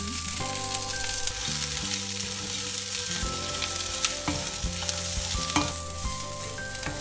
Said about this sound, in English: just a little bit of sauteing of onions